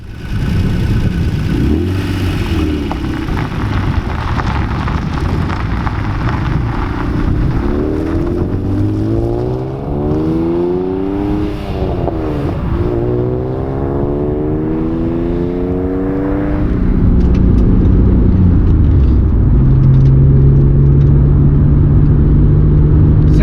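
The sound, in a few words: car driving on Gateway Canyon road, Colorado CO 141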